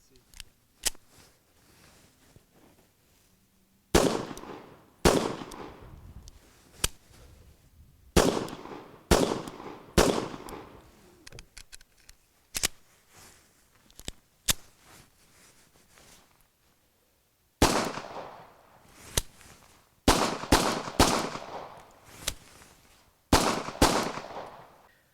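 Sharp, loud shots from a Japanese Type 14 pistol ring out one at a time at irregular intervals, with a quick cluster near the end and quiet gaps between.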